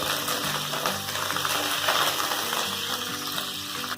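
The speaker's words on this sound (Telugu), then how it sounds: "ఆయిల్ వేడయ్యాక ఎండుమిర్చి, పోపు గింజలు, కరివేపాకు కొంచెం వేసి పోపు పెట్టేసుకోవాలి." Dried red chillies, seasoning seeds and curry leaves sizzle steadily in hot oil for a tempering, a dense continuous crackle with light stirring clinks, close and loud with no talk.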